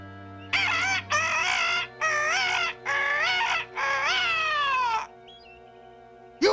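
A rooster crows in several drawn-out bursts separated by short pauses, loud and close, ending with one final call.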